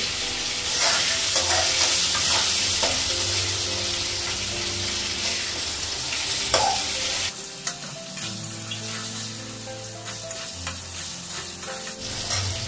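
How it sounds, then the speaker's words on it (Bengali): Potatoes frying in a pan with cumin, a steady, close hiss and sizzle with scraping and stirring sounds throughout, no voices. "আলু তো ভাজা হয়ে গেছে"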